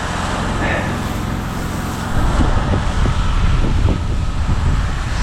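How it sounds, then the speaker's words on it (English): Wind buffets the microphone outdoors during house soft washing, with a low, rumbling roar that grows stronger partway through, steady and loud throughout. "Super windy, by the way."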